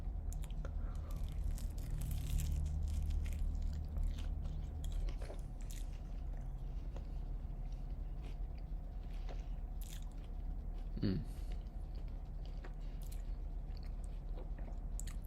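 Someone bites into a spicy barbecue sandwich with jalapenos, chipotle mayo, crispy onion and spinach, followed by soft, close chewing and crunching over a faint restaurant background hum.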